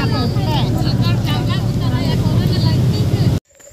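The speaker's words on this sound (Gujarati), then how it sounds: "ટ્રેક્ટર અમારું ચાલી પડ્યું છે." A tractor engine runs with a steady, loud, close rumble while riding along, with voices talking over it and wind buffeting, before the sound cuts off abruptly at the end.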